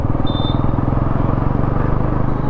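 A Bajaj Pulsar NS400Z motorcycle in sport mode pulls from 4th gear. The engine makes a steady, loud, close-up drone with a deep rumble that stays fairly even for the whole stretch, with no talking over it.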